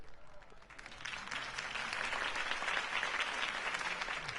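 A crowd in a Batman video game applauds after a campaign speech for Harvey Dent, with a sustained wash of clapping that rises after the first second and holds steady at a moderate distance.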